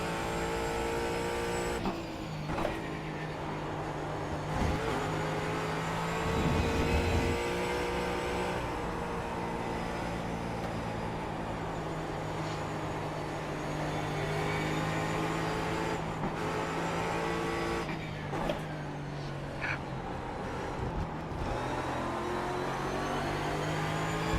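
Porsche race car engine in the iRacing sim, a steady loud drone with gear-change dips and rising revs, continuous throughout with no talking.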